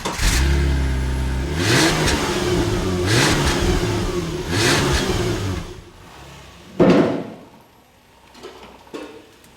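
A straight-piped Subaru Outback with an H6 engine revs hard in several loud, rising bursts, then drops toward idle with a couple of short blips near the end.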